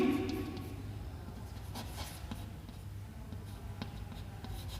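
Marker or chalk scratching across a board during a maths lesson, a faint, steady scraping with small taps, heard alone in a quiet room.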